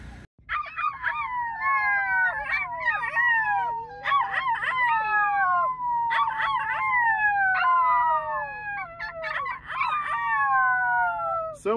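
Several wolves howl together in overlapping, long rising and falling wails, repeated in waves and loud throughout.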